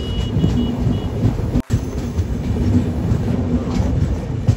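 Passenger train running near Nagpur station on the Secunderabad to Varanasi route: a loud, steady rumble of wheels and carriages with faint rhythmic clatter, broken by one brief dropout.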